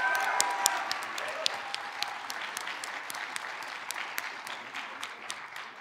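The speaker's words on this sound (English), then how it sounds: "Can we get a round of applause?" A film festival audience applauds steadily, many hands clapping in a crisp, continuous patter of sharp individual claps, moderately close and sustained for several seconds without voices.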